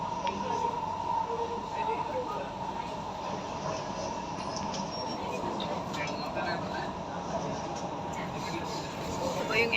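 Steady rumbling hum of a Singapore MRT train in motion, with continuous rolling noise and faint murmuring voices in the carriage.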